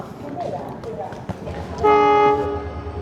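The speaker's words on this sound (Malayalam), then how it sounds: "അപ്പം നമ്മുടെ ട്രെയിൻ പ്ലാറ്റ്ഫോമിലൂടെ കയറി വരികയാണ് ഫോക്സ്. ഡീസൽ എഞ്ചിനാണ് കേട്ടോ." A diesel-hauled 12467 Jaisalmer–Jaipur Leelan Express rolls into the platform with rumbling and clatter, then sounds a loud, sustained horn blast partway through while a voice speaks nearby.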